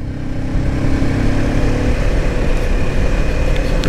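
A Kawasaki Ninja 500 motorcycle engine pulls hard in fourth gear, a loud continuous mid-pitched drone with steady revs and wind noise, heard up close from the rider's position and with no voices.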